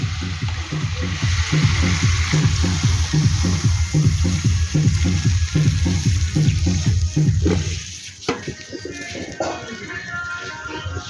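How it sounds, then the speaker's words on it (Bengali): Water is poured into a cooking pot of boiled potatoes for a thin bhola fish curry, a steady close rushing splash that runs for several seconds and then stops, leaving quieter kitchen sounds. "এবার জল দিয়ে দেবো"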